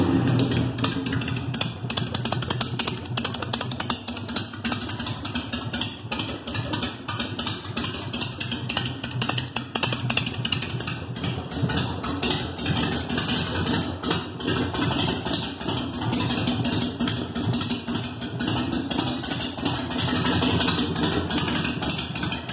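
A car engine is started cold and settles into a steady idle, its even running hum continuing throughout with a fine rapid ticking texture and no voices.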